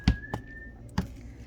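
A single brief, steady whistled note sounds faintly in the background, punctuated by a few sharp knocks or taps.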